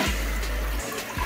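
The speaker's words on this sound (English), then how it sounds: "You can see blue, we flush." Rushing water from a toilet flushing with a blue automatic cleaner in the tank, a loud swirl that cuts off abruptly partway through, followed by quieter trickling.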